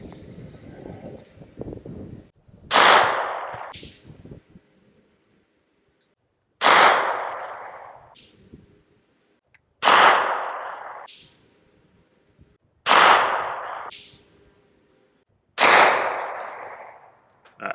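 An MP5 fires 147 grain Minuteman rounds with no suppressor, five loud, sharp reports spaced a few seconds apart outdoors, each with a short ringing decay, after some faint handling noise.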